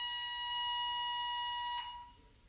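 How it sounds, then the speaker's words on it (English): A building fire alarm sounds on an upper floor, a loud steady high-pitched electronic tone that cuts off abruptly, leaving a quieter hum behind. "A false alarm has sounded on the 11th floor."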